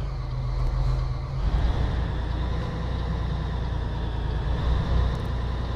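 A Scania 112h truck engine in Euro Truck Simulator 2 rumbles at low revs, a steady deep idle-like drone with slight surges, heard alone without talk.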